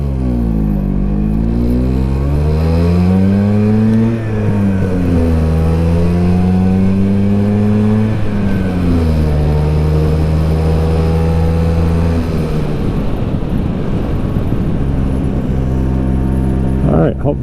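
A 1979 Vespa's small two-stroke engine revs and drops repeatedly while riding, loud and close, its buzzing pitch climbing and falling in steps as gears change.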